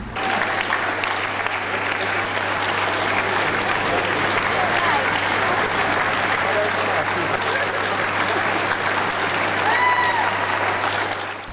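A gallery audience breaks into spontaneous, sustained clapping, a dense and steady wash of many hands that continues evenly and loudly throughout.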